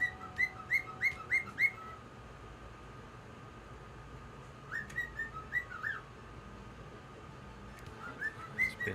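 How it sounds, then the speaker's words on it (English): A pet bird chirps and whistles in short bursts of rising notes, a cluster near the start, another around the middle and a few at the end, fairly faint over a steady indoor hum. "Bird in the background, I love the little guy."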